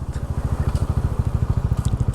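Two motorbikes idle near the Payra bridge, their engines ticking over in a steady, rapid pulsing putter, close and fairly loud, with no voices.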